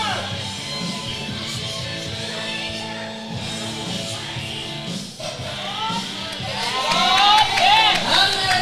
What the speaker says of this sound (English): Great crowd support indeed.